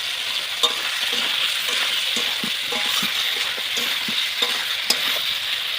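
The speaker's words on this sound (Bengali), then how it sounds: "এখন আমি মাংসটা কষাচ্ছি বন্ধুরা" Meat stir-fried in a pan gives off a loud, even sizzle, with the spatula tapping and scraping at irregular moments throughout and no one speaking.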